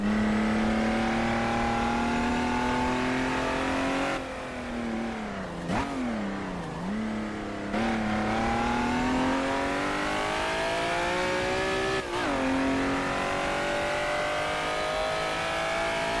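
An Aston Martin DB4 racing in a historic racing game, its engine droning loudly and rising in pitch through the gears, with clear shift dips and revving changes along the way.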